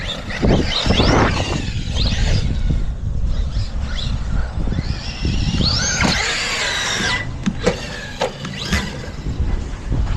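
A RedCat Valkyrie 4S radio-controlled car drives outdoors with a loud, continuous high-pitched electric motor whine that rises and falls as it accelerates, plus occasional clattering thumps and rushing wind noise.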